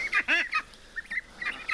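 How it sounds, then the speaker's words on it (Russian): Month-old Blue Favorite ducklings calling in a short series of loud, nasal honking quacks, several close together then scattered, with no talk over them. "Они, ну как, утки как утки."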